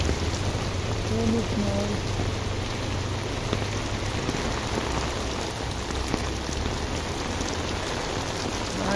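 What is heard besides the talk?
heavy rain in Recife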